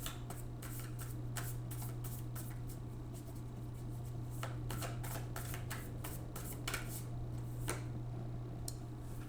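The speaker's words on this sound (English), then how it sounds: "let me go ahead and shuffle." Tarot cards are shuffled close by in a quiet room with a low hum, giving a run of soft, irregular riffling and tapping clicks throughout.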